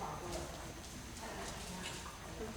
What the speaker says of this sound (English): really high quality trot that you have here